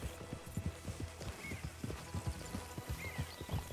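Horse hooves clip-clop steadily on the ground in the Red Dead Redemption 2 video game, an even walking rhythm of close, moderately loud hoof strikes with faint ambient game sound behind.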